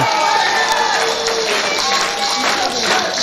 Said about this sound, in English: listen to the crowd firmly in favour of Andy Boy Simmonz